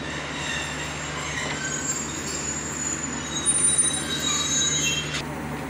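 Banglabandha Express, hauled by locomotive 6625, rolls into Dinajpur station, its wheels squealing high and steady against the rails over a continuous rumble of passing railcars.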